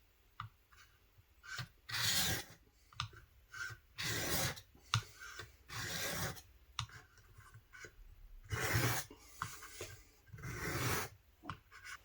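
An Opinel No 9 knife blade is drawn across a fine sharpening stone in bursts of rasping, scraping strokes with short pauses between, close up and fairly quiet, with no voices.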